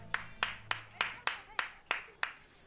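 A few people clap in a slow, evenly spaced rhythm, about eight sharp claps close by, while a faint low hum fades out early.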